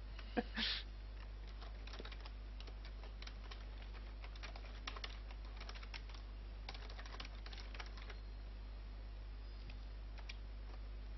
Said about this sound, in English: Doing so, typing.